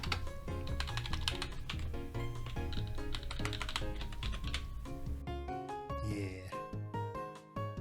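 Quick, steady clicking of keys on a computer keyboard, fairly quiet, running under continuous background music.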